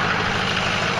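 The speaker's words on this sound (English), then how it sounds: "Sorry about the diesel noise" A Ford F-350 pickup's diesel engine idles steadily nearby, a continuous low rumble with a broad, even mechanical drone and no pauses.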